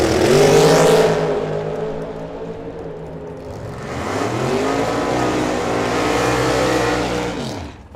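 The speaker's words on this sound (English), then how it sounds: "Is this like a land shark, one of those short wheelbase, the Patrick Marbach machines, the dragster out of Bismarck, North Dakota?" A short wheelbase dragster at a drag strip roars loudly past, its engine note rising then sweeping down as it races away, a long sustained howl that drops off at the end.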